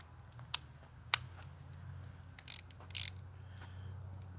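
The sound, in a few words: ratchet with 9/16 socket on Murray push mower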